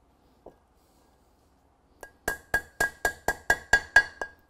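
A fairly small hammer taps a brake seal down into a disc brake rotor, with eight sharp, ringing metallic strikes in a steady rhythm after one lone early tap, close and fairly loud.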